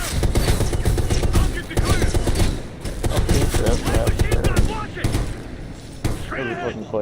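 Rapid bursts of machine gun fire in a video game firefight, loud and close, rattling in repeated volleys over several seconds with brief pauses, while voices talk over the shooting.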